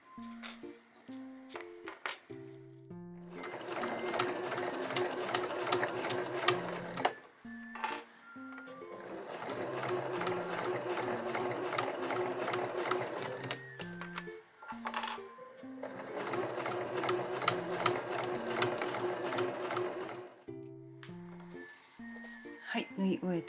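A sewing machine stitching Marimekko fabric for a small curved pouch with a 12 cm zip, running in three long steady bursts with short pauses between, loud and close.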